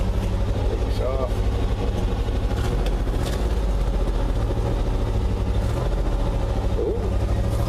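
A classic truck engine runs in a steady, close rumble as the old vehicle moves off under its own power. A few faint clanks and rattles sound over the drone, and a voice is heard briefly.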